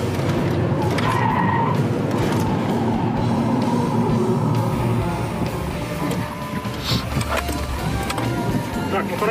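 Car swerving at speed around a sudden obstacle on a driver-training course, tyres scrubbing and engine running loud and steady throughout, with a brief dip near the end.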